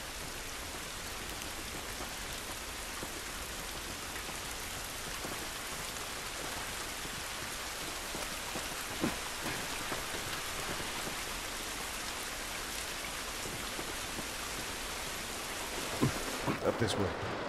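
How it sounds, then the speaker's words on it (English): Steady heavy rain pours throughout in the video game The Last of Us, a dense continuous hiss with scattered drop impacts and a brief louder burst near the end, with no voices over it. "This rain ain't gonna do us any good"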